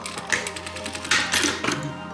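A sewing machine stitches a seam on a fur-fabric bag with a rapid, even mechanical clatter, close by, running in bursts with brief changes in pace.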